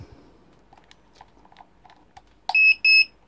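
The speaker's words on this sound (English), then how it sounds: "those beep indicate that it has now been plugged in." An essential oil aromatherapy candle diffuser humidifier gives two short, clear electronic beeps as it is plugged in, following faint clicks and handling noises of the charging adapter.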